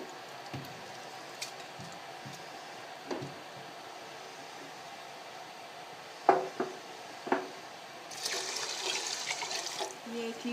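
Water is poured into a pressure cooker holding rice for kheer, heard as a rushing liquid pour near the end after a few light metallic knocks, fairly faint in a quiet kitchen.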